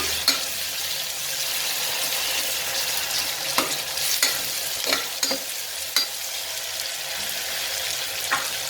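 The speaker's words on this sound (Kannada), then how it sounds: "ನೀವು ಈರುಳ್ಳಿನ ಗೋಲ್ಡನ್ ಬ್ರೌನ್ ಬರೋವರೆಗೂ ಫ್ರೈ ಮಾಡ್ಕೊಳ್ಳಿ" Onions sizzle in a pan with a little salt on their way to golden brown, a soft continuous fry broken by sharp scraping and stirring clicks of a spoon.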